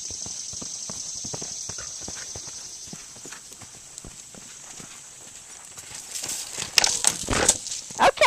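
A horse ridden during a riding lesson, with hooves striking the ground in a steady rhythmic clip-clop close by, growing louder and busier toward the end over a faint high background hiss.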